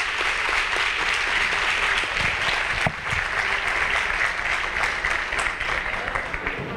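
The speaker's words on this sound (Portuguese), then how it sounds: "Uma salva de palmas ao Guilherme." Audience applause at a law lecture on constitutional criminal law theory, a sustained round of clapping from a room of students with a few louder claps standing out.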